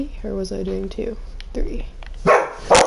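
A pet dog barks several times nearby in a room where a Minecraft game is being played on stream, its barks mixing with someone talking over it.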